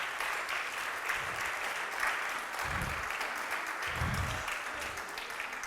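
A seminar audience applauds continuously and fairly loudly throughout, a dense even wash of clapping with a few low murmurs underneath.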